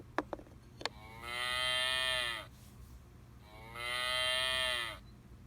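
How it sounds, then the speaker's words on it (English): A cow moos in a farm animal sound clip: a few faint clicks, then two long, loud, drawn-out moos separated by a short pause, with no voices. "Let's hear what the cow says."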